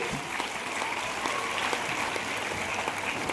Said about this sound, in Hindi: जोरदार तालियां बजाएं इस मसाल के लिए